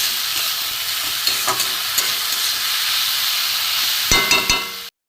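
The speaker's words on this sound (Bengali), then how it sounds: "এই মশলা দিয়ে কষা হয়ে গেছে" A spice mix of turmeric, chili, cumin, coriander and grated ginger sautés in a pan with a loud, continuous sizzle, some stirring scrapes and clanks near the end before it cuts off abruptly.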